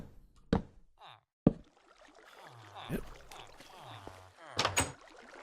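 Doors placed in the video game Minecraft give a few sharp, knock-like clacks spaced seconds apart, over soft watery ambience and quiet talk.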